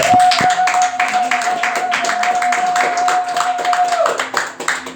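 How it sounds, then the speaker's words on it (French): A church congregation claps in applause, a dense burst of hand claps with a sustained tone ringing beneath it for several seconds before fading. "Est-ce qu'on peut acclamer la parole du Seigneur?"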